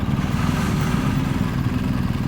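Motorcycle engines rumbling nearby in a low, throaty, steady drone, loud and continuous for a couple of seconds.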